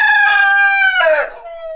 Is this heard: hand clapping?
no